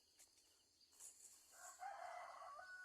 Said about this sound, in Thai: เสียงไก่ขัน